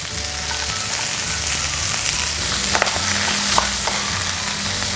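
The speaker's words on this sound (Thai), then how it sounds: "พอหมูเริ่มสุกนะคะเราก็ใส่กระเทียมสับนะคะ" Pork belly and chopped garlic stir-fry in hot oil, a steady close sizzle with scraping stirs and small bursts of spattering.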